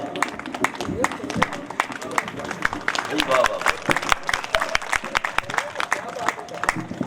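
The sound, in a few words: audience applause at a poetry gathering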